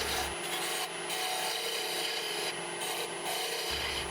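Wood turning on a lathe to straighten a lamp tenon, a steady broadband scraping hiss of the tool against the spinning spindle, running continuously and close with brief dips in the top end.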